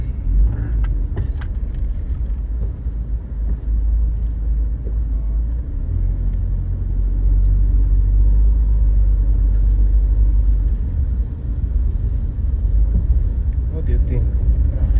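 Heavy road traffic on a congested street in Abidjan during rain, a steady low rumble of car and bus engines with occasional air-brake hiss, close and continuous while a person talks over it.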